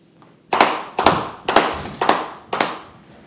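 Five sharp hand claps ring out in a quick, slightly uneven sequence, each a crisp close-up slap with a short decay, loud against an otherwise quiet room.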